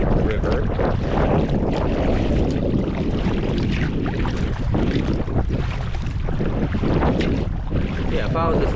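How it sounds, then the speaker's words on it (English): Wind-driven waves slap and churn around a paddled boat crossing the Ohio River, a loud, constant rush of water and wind buffeting the microphone throughout, close and unbroken. "The waves are coming at me from the right."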